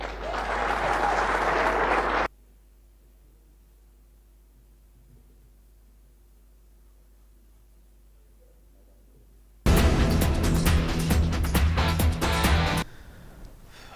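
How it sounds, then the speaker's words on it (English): Loud applause for a 2014 award winner at a sports federation awards ceremony, a burst of clapping at the start, a long quiet gap, then a second strong round of crowd clapping. "please a big round of applause for our winner for 2014"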